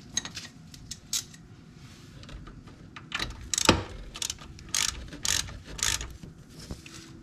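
A ratchet clicks in short bursts while tightening the drain plug on a Polaris Sportsman 570 gearcase, with close, irregular metallic ratcheting and pauses between strokes.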